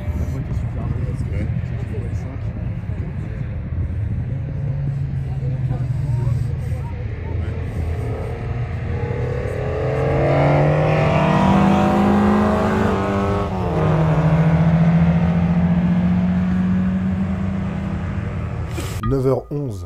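A Citroën AX GT and a Renault R8 Gordini race on a circuit, engines droning loud and near, with revs climbing and falling and a rising pass-by sweep midway before a sharp cut at the end.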